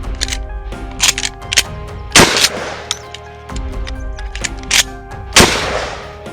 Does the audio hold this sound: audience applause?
no